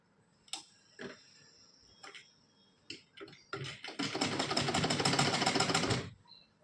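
Sewing machine stitching tucks on a blouse starts with several scattered clicks and taps, then runs in one steady, close burst for about two seconds before stopping.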